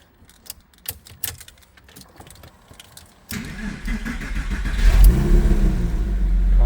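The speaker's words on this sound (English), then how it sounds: "So I'm going to start the car up so we can actually see to make sure the actual motors are working." A Porsche 996 sits quiet through a few light clicks, then its engine cranks and catches about halfway in, swelling into a loud, building idle that grows louder toward the end.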